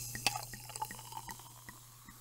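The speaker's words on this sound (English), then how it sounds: "let's pour that first" A drink is poured into a glass, a faint, close trickle of liquid with small splashy drips over a couple of seconds, against a low background hum.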